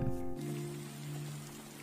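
Soft rain patters in a drama scene under a sustained musical tone, with a brief low sound at the start, all fairly quiet.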